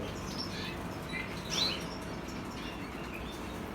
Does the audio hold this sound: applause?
no